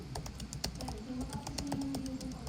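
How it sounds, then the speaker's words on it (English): Rapid, close-up typing on a MacBook Air scissor-switch keyboard produces crisp, muted clicks in a fast, uneven stream, steady and alone for a couple of seconds. "Speaking of the keyboard, this is how it sounds."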